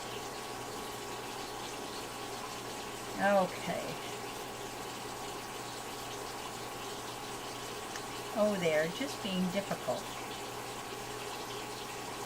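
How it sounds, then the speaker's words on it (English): Steady running cold tap water pours throughout as food is rinsed, a constant close rush, while a person speaks briefly twice over it. "we'll get them rinsed in cold water"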